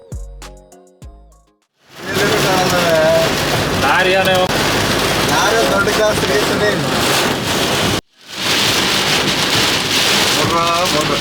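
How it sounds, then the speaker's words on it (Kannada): Heavy rain with strong wind batters a vehicle on the road from Chitradurga to Dharmasthala, a loud roaring wash of drops and gusts after a brief musical opening, cut by one short silent gap. "ಸರಿಯಾದ ದೊಡ್ಡ ಮಳೆ ಕಾಣುತ್ತೆ"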